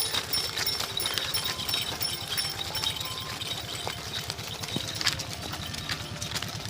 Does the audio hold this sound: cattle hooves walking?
yes